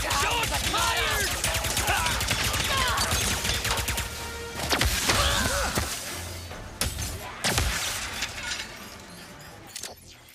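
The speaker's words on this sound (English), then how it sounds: "Shots fired!" Gunfire and smashing debris from the video game Ratchet and Clank Rift Apart form dense, rapid volleys of shots with shattering crashes over a busy game soundscape, loud throughout and thinning toward the end.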